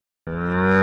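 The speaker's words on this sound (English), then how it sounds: "Camel." A camel lets out one loud, low, droning groan. It starts abruptly after a brief silence and holds steady to the end.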